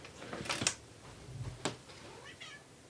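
A cat meows a few times up close, short high calls separated by brief pauses, with faint household noise and no talking.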